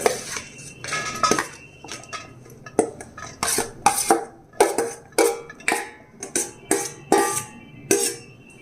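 Peeled garlic cloves and ginger pieces dropped into a mixer jar, heard as a series of close, sharp hard clatters and clinks in an uneven rhythm, each one ringing briefly; no one talks.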